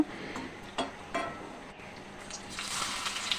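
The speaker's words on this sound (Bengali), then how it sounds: "প্রথমে আমি মরিচটা টেলে নিচ্ছি" Chilies dry-roasting in a pan crackle softly, with a few sharp scrapes and taps of a utensil against the metal, and a brighter sizzle building toward the end.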